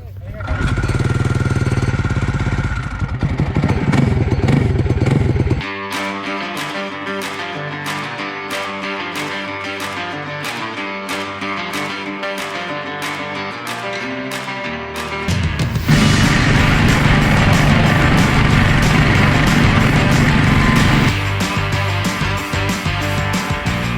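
A homemade drift trike engine cranks, catches and runs with a loud, rough, rapid-firing rattle, shifting pitch as it revs up, close and dominant throughout.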